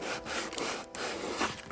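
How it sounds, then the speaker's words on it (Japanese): Dried Rock Glazing Putty 2 on a cracked wooden stair riser is sanded by hand, a steady close rasping scrub with slight back-and-forth rhythm and no talk. "乾かして研磨します。"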